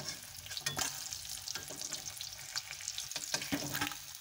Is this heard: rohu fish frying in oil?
yes